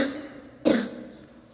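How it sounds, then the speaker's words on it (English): A single sharp cough bursts out near the mic after a quiet moment, then fades into soft background noise; a person says they are a little sick. "don't worry about my cough."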